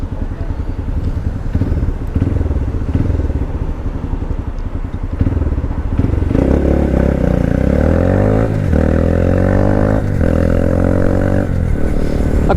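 A Honda Grom motorcycle's small engine revs hard at full throttle, climbing through gear changes with rising, buzzing pitch sweeps, loud and close, with no talking.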